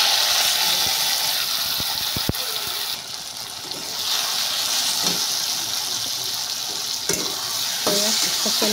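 Taro stems sizzle and fry in hot oil, a steady loud hiss of frying with occasional stirring clinks and scrapes, close up throughout.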